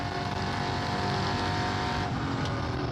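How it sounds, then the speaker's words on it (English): On-board a Chevy stock car racing in the EuroNASCAR series at the NASCAR GP Spain, a loud sustained engine drone with a brief shift in pitch near the end. "as we go on board with the reigning EuroNASCAR 2 champion, Lasse Sorensen."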